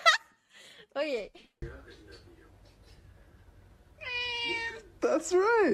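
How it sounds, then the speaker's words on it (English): A cat meows several times in short, high, bending cries, close by, with quieter voices and room noise in between. "Meow! That cat was so cute."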